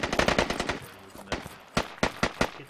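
Bursts of automatic gunfire in the military shooter Squad, a rapid volley of close, loud shots followed by a pause and then several separate, sharp single reports.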